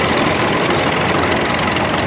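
A 1967 International 656 tractor engine runs at a plow day, a loud, steady, close mechanical drone with no breaks.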